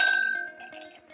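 Ice clinking in a whisky glass as Glenmorangie 15 year Cadboll Estate is poured over it: a bright, close glassy ring at the start fading under a few softer clinks and small knocks, with no talking.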